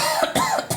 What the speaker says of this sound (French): Allez, tousser.